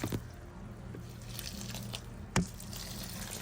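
Water poured onto potato and onion plants in dry soil trickles and drips softly and close, with a brief louder splash partway through.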